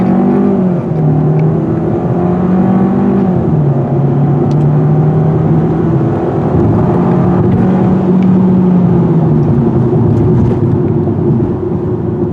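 A 2021 Hyundai Sonata's small engine hums steadily and close, its pitch rising and falling as it speeds up and eases off, with road noise underneath.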